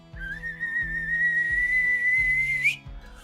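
A single long, steady whistle from a person holds one pitch for almost three seconds, then rises slightly before cutting off, loud and alone over a soft repeating low background pattern.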